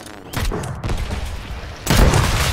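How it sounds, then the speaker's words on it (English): A cannon firing repeatedly in the building game Trailmakers, heavy booming shots in quick succession with a louder blast near the end, close and punchy. "Why is my cannon firing?"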